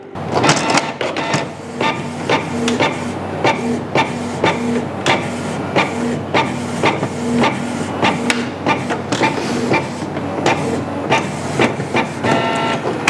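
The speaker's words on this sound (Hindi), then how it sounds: "ब्लैक फोटोकॉपी वाला बटन हमने प्रेस किया, अब ये कॉपी करेगा।" A Canon G2010 inkjet printer making a black photocopy runs with a steady mechanical whir punctuated by regular rhythmic clacks and clicks of the feed and print head, close and loud, with no talking.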